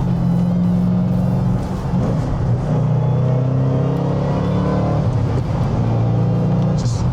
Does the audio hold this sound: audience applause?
no